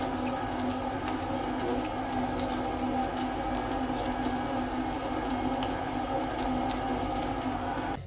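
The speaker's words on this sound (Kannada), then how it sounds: "ಇವಾಗ ಇದನ್ನು ನಾನು ಗ್ರೈಂಡರಲ್ಲಿ ಗ್ರೈಂಡ್ ಮಾಡಲಿಕ್ಕೆ ಹಾಕ್ತೇನೆ" A kitchen grinder grinds fried masala with cashews in a continuous, steady motor whine with a rattling, buzzing tone, constant and close for about eight seconds before it cuts off at the end, with no voices.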